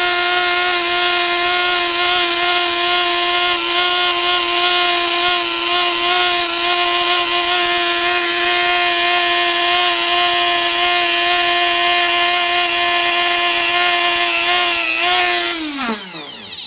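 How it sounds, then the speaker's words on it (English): A handheld Dremel rotary tool spins against the wetted edge of white cowhide leather, giving a steady, loud high-pitched whine that holds even for about sixteen seconds before the motor winds down at the end. "I wet the edge like so, and then I use a Dremel"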